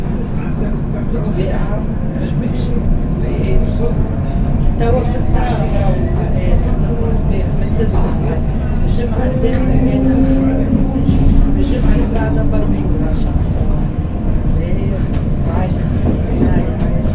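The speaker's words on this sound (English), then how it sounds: "Welcome aboard the smashed window suburban train to Tunis Central." A suburban train with smashed windows runs toward Tunis Central on a line in bad condition, giving a loud continuous rumble and rattle with squealing wheels and some background voices.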